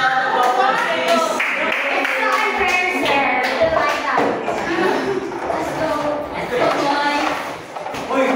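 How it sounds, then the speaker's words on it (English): Audience applause for group two at an arnis demonstration, a crowd of hands clapping in a steady patter, with voices talking and calling over it throughout. "Please give a applause"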